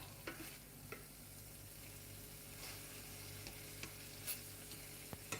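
Chicken fries in a pan with mushrooms for rice noodles, a steady low sizzle running throughout, while a utensil stirs and scrapes now and then in soft, scattered clicks, fairly quiet and with no talking.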